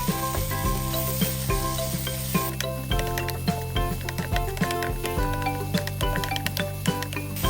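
Holy basil leaves stir-fried with Chinese sausage in a hot pan, a loud, close sizzle with rhythmic spatula clatters and scrapes against the metal, a brief hissing burst at the start, and no speech.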